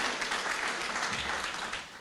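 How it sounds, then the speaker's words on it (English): Brief, dense applause from a book launch audience, many hands clapping evenly and fairly loud for two seconds. "Can we all give her a round of applause?"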